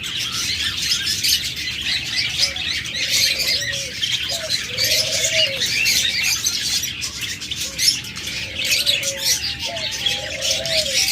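Lovebirds, cockatiels and budgerigars at a bird sale chirp and squawk continuously, a dense bright chatter of many small parrots with scattered louder calls throughout.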